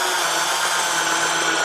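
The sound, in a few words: power drill driving 3-inch screws into a 2x4 blank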